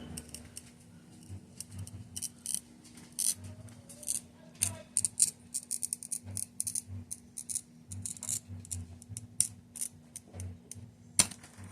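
A glass cutter scores across stained glass with a faint, scratchy crackle, made of quick gritty bursts and a few sharper clicks. Close up and quiet.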